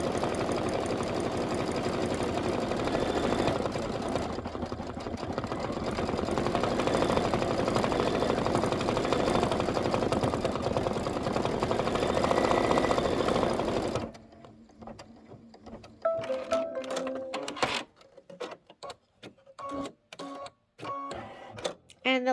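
An embroidery sewing machine runs mocha-coloured stitching around a wooden hoop design, a loud dense continuous whirr for most of the span, then stopping into sparse clicks and short mechanical bursts.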